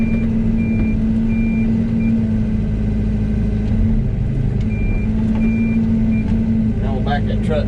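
A truck backs down at a culvert install job site, its backup alarm repeating evenly spaced beeps over a loud, steady diesel engine rumble close by, with a brief voice near the end.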